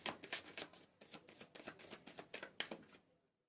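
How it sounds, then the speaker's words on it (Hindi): Tarot cards shuffled close up in a quiet room, a quick run of soft rapid riffles and flicks that fades to silence. "ओके, चलिए एक कार्ड और ले लेते हैं।"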